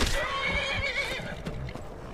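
A horse in the video game Skyrim whinnies in a long, wavering neigh with faint hoof clip-clops beneath, set against a steady wind-like game ambience, fairly close and alone.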